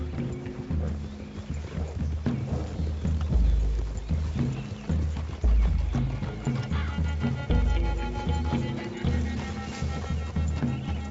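Horses move at a trot in the western game Red Dead Redemption 2, a steady stream of close hoof clops and rustling gear running throughout, with occasional heavier thuds.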